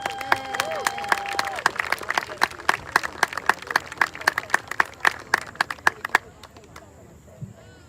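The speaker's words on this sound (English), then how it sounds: "Let's everyone give the seniors from Pendleton County a big round of applause" A crowd applauds senior varsity women athletes at a senior day ceremony, with scattered sharp claps in a gym-like space, then the clapping fades out while a faint voice continues.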